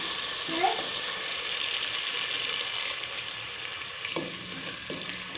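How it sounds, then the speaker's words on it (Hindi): Tomato masala fries in a pan and a little water goes in, giving a steady soft sizzle with faint clinks and scrapes of stirring, heard alone and fairly quiet. "इसमें हम हल्का सा पानी ऐड करेंगे।"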